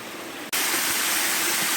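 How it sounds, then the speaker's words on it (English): Close-up waterfall in Meadow Clough off Crowden Little Brook in the Peak District, a loud, steady rushing roar of falling water that surges in after a brief quieter moment. "Here's the waterfall up closer."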